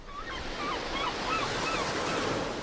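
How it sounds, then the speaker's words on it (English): The sea heard inside a seashell comes through as a soft, steady rushing whoosh like distant surf. Faint chirpy tones drift above it, with no voices. "Did you hear the sea?"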